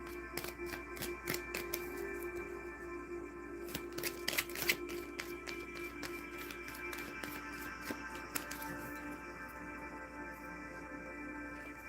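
Tarot cards shuffled by hand in a quiet room, a run of crisp riffling snaps and flutters with brief pauses, steady and close, with no talk.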